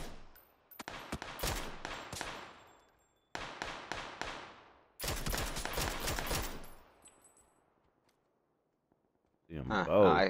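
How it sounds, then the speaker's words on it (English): Rapid bursts of gunfire from a video game sniper match, with several tight volleys of loud cracks separated by brief pauses, followed by a moment of near silence before a voice cuts in at the end. "The guy's shooting."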